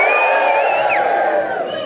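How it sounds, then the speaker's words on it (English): A large audience at a wealth dynamics seminar in Brisbane cheers loudly together, a dense sustained roar of voices with high whoops rising above it, fading slightly at the end. "You guys want to give a big cheer and wave?"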